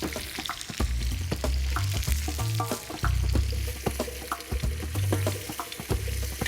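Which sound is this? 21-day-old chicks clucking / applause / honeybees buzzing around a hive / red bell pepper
red bell pepper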